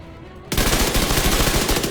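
Converted SMG A2 submachine gun in The Division 2 opens up abruptly into a loud, dense, continuous automatic rattle that keeps going without pause after a quieter moment.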